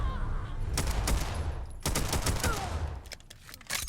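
Unsuppressed FNX-45 pistol fitted with a muzzle brake in Fallout 4, several sharp loud shots cracking in quick bursts with short gaps between them, nearby and crisp.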